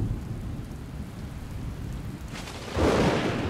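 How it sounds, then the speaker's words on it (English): Rain falls on the flat Liuwa Plain grassland as a steady, dense hiss with low rumbling, then swells suddenly into a heavier, louder downpour near the end. "With the first drops of rain, the Liuwa itself comes to life."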